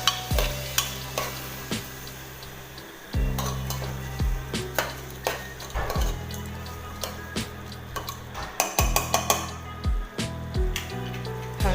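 Khichdi ingredients with toor dal are stirred together in a pot, a spoon scraping and clanking against the metal in repeated strokes over a steady sizzle.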